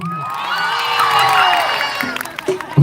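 A crowd at a temple folk song event lets out a long, loud collective whoop and cheer that swells and fades, followed by scattered shouts and claps.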